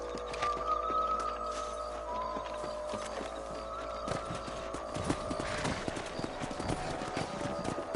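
Horse hooves clip-clop in the video game Red Dead Redemption, a steady run of hollow knocks as the horse moves, moderately loud and close, over a low ambient background with no speech.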